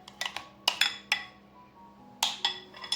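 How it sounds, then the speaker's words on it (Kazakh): A spoon scrapes and taps against dessert bowls while millet dessert is portioned, giving a handful of sharp, close clinks spaced irregularly, with a steady low hum underneath. "Осылай толғанша қасықтың көмегімен салып шығамыз тарымызды"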